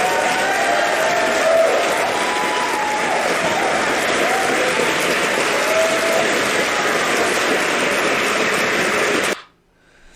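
Loud, dense crowd applause at a Nevada Republican political rally in Winnemucca, sustained and even for about nine seconds with faint cheering mixed in, then cutting off abruptly into near silence.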